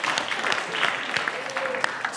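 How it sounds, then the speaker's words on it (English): An audience claps together in a room during a congregation gathering, a steady sustained wash of applause with a few sharper individual claps, heard briefly. "yes, applaud yourselves"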